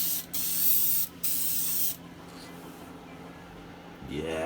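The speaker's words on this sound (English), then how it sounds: "So I'll just spray it on the rest of that." Spray paint hisses in bursts onto the window of a VW T25 campervan, two short sprays and then a longer one, loud and close, before a quieter stretch and a low rumble at the end.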